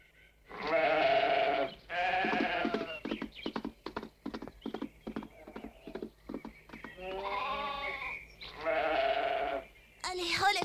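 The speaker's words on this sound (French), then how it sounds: "Et cette chèvre avec son petit là-bas, c'est elle qui vous donne le bon lait que vous buvez." A cartoon goat with her kid in a French children's animated series bleats in loud, wavering cries, three calls spaced across the stretch, with a run of rapid clip-clop hoof knocks in between.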